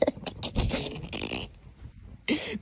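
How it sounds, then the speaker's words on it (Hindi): A dog panting and snorting in excited bursts, close and fairly loud, with a short pause and then a sharp final burst. "कुत्ता पागल हो गया"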